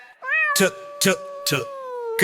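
A long drawn-out cat meow, close and clear, while a few sharp percussive beats land evenly beneath it.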